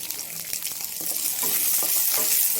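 Onion, ginger and garlic fry in a hot pan for a red chutney, a steady close sizzle with hissing broadband crackle and occasional stirring scrapes, rising slightly louder midway and continuing throughout without talk.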